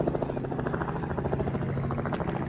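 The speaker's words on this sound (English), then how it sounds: "we can hear a helicopter. There's a helicopter." A helicopter's rotor thumps in a fast, even rhythm with an engine drone, fairly distant and steady throughout, in the Australian outback at Tilpa on the Darling River.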